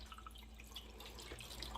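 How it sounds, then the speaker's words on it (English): Vegetable stock poured over oxtails in a pot for Nicaraguan black bean soup, a soft, steady trickling and dripping of liquid heard faintly up close against a low background hum, with no talking. "we are going to take some vegetable stock, and we are going to pour it over the oxtails"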